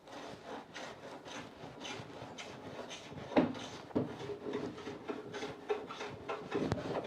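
A hand plane cuts a chamfer along the edge of a wooden door under restoration, giving a run of quiet, uneven rasping strokes with a few sharper scrapes, close by and without talk.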